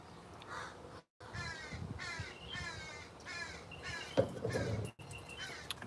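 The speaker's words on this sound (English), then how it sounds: "Crow has a lot to say." A crow caws in a run of about six harsh, raspy calls in steady succession, fairly close, with brief silent gaps and a faint knock partway through.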